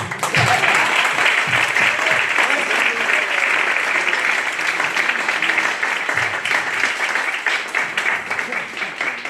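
A theater audience at a performing arts center breaks into sustained, dense applause that stays loud and even throughout, with faint voices mixed underneath.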